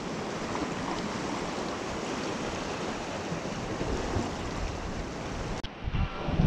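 Steady, roaring wind buffets the microphone at a California shoreline where people fish for lingcod, with surf rumbling underneath; the gusts hold constant and loud, then jolt and swell near the end.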